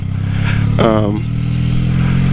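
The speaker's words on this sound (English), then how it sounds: "So I got the Honda Magna." Honda Magna motorcycle engine running, a steady low idling rumble that continues throughout, with a brief tonal chirp partway through.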